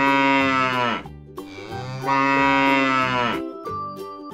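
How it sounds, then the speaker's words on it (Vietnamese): A cow moos twice, long, loud and close, each call a drawn-out low bellow with a short gap between them and a softer tail at the end. "Con bò kêu thế nào?"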